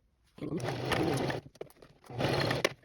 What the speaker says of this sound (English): So basically I'm going to sew a tiny little triangle from here to here.